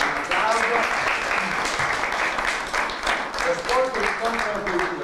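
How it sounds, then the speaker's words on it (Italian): Applause from the audience at an Italian film press conference, a steady wash of clapping lasting several seconds with voices talking over it. "Io per questo vorrei un grande applauso"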